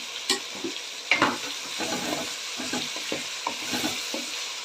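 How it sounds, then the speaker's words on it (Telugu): Green chillies fry in hot oil as part of a spiced okra curry, a steady sizzle broken by repeated scraping strokes of a spoon stirring through the pan, close and fairly loud with no talk. "ఇవి బాగా వేగనివ్వాలి"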